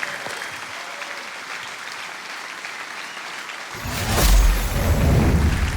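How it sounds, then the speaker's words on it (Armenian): Audience applause erupts for the Medusa contestant on a masked singing competition show, a dense burst of clapping and crowd noise that swells loudly after a quieter stretch and holds through the end. "Ծափարություններ մեդուզային"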